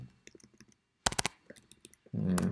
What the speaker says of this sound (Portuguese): Deixa eu dar um enter aqui, tá?